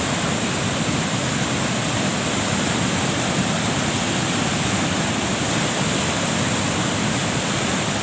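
Muddy canal water rushes continuously with a steady, even hiss, unbroken throughout and fairly loud, at the Regional Canal in Bahawalpur.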